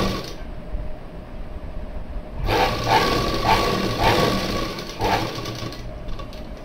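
A sewing machine stitches a blouse seam, starting partway in with a close, steady mechanical whir and faint repeated ticks of the needle, holding an even rhythm to the end without talk.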